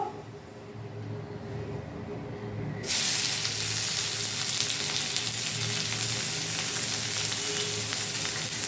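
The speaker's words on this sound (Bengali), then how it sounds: "আর একটু তেল দেবো, দিয়ে এর মধ্যে দেবো পেঁয়াজগুলো" Onions tipped into hot oil for a duck-egg curry set off a sudden loud, steady sizzle about three seconds in, after a quieter stretch of low background hum.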